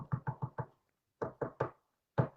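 A person knocks on a hard surface to imitate the Tommyknockers of the mines, a run of four quick raps, a pause, three more, then a final single knock, all close and dry.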